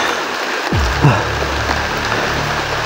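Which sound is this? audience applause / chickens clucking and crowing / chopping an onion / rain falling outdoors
rain falling outdoors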